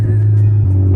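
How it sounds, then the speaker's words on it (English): Mitsubishi Evo X fitted with a Valdi Sport FQ400 rear bumper, its engine giving a loud, steady low rumble that holds up close for the whole second. "The sounds of this car is so good!"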